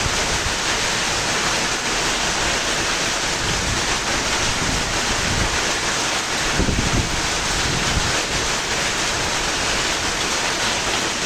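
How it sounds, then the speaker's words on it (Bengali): A strong storm in Narail, Bangladesh, with wind and rain together: a loud, continuous roaring rush of gusts and downpour close to the microphone, with wind buffeting and no voices. "ঝড়ের গতিবেগটা, এবং সঙ্গে বৃষ্টি, বাতাস এবং বৃষ্টি দুটোই সমান চলছে"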